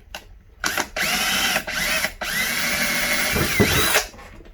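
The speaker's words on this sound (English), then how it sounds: "This is a 97 thousandths drill bit, and I'm going to drill this air bleed right here out." A power drill whirs in three close bursts, the first two short, the last a longer steady run, with sharp starts and stops and no speech, as a 0.097-inch bit drills out an air bleed on a Holley carburetor.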